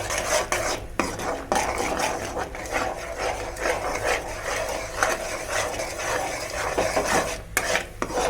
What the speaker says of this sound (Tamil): இட விடாமல் நீ கையை விடாமல் கிளறணும்